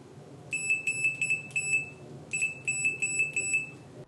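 Continuity beeper of a Fluke 177/179 digital multimeter sounding in two bursts of rapid, loud, high-pitched beeps over steady background noise.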